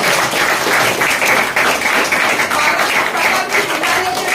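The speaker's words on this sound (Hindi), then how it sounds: "इसके लिए जोरदार ताली होनी चाहिए" An audience applauds at a business presentation, a steady, full wash of clapping that continues unbroken and fairly loud throughout, with no talk over it.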